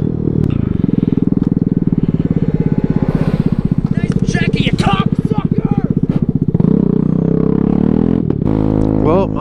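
A motorcycle standing in for a broken-down Honda Grom rumbles steadily and close by at a low, pulsing idle or cruise for most of the stretch, with voices talking over it and a brief rev change near the end.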